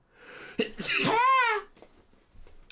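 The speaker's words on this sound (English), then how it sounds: "I'm gonna sneeze" A single loud, drawn-out sneeze with a rising wind-up and sharp release, followed by quiet breathing.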